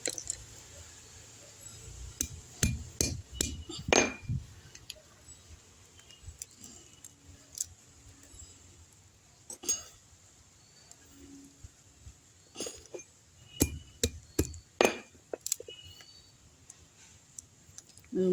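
Cashew nut shells being cracked open by hand at home to free the nuts, a string of sharp clicks, snaps and squishy cracks at irregular intervals, close and fairly quiet, with long quiet gaps between bursts.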